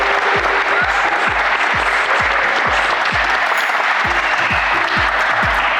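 Warm, sustained applause from an audience at a student and adult competition fills the space evenly and close, with a rhythmic thumping pulse running underneath the dense clapping.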